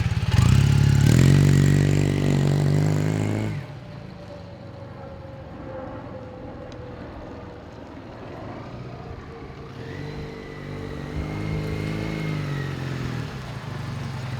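A 1979 Honda CM400A motorcycle engine, loud and close as it revs hard at first, then settling into a quieter steady idle before revving up again toward the end.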